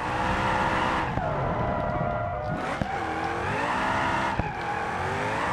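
In a racing game, a V8 engine drones loudly and steadily while tires skid and squeal in wavering, pitch-bending streaks, with a couple of brief thumps.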